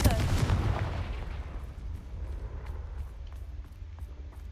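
A Confringo blasting spell in Hogwarts Legacy lands as a sharp explosive burst, then trails off into a long, rumbling decay with faint crackles.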